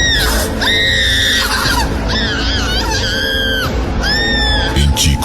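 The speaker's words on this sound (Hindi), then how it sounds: "सुरजीत की बेहोशी टूटी चीखों से।" Loud, sustained screams fill a ghost-story scene, several long wailing cries rising and falling one after another with a dense, harsh rumble underneath, hardly a pause between them.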